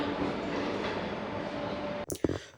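A MEMU express train rumbles steadily through Kottayam railway station with a broad, continuous roar, then the noise breaks off into a few sharp clanks and knocks.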